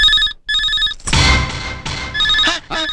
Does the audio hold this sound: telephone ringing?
yes